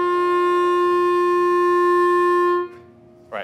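Clarinet holding an open G with a tight 'he' tongue shape, one steady bright focused tone sustained alone for over two seconds, then stopping, followed by a brief breath or voice sound at the end.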